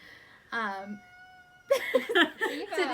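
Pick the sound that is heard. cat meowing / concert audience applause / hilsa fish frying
cat meowing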